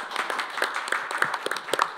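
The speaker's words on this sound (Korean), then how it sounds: "박수로 한번 끝내주시고." Audience applause in a hall closing a policy debate forum at the National Assembly, a moderate patter of clapping with scattered louder claps, steady for a couple of seconds with no talk over it.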